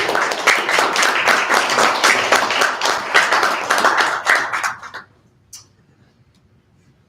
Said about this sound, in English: Come on, start clapping.